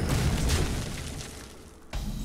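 A Deadly Shot card effect in Hearthstone plays as a loud, booming low burst that swells at the start, fades over about two seconds, then hits again briefly near the end, with no talk over it.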